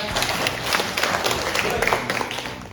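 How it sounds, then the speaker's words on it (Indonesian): Classroom applause with scattered claps and a busy, crackling texture, fairly steady throughout, with some background voices mixed in. "tepuk tangan buat teman-teman"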